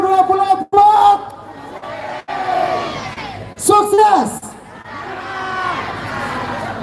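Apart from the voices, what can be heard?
crowd shouting and cheering at outdoor event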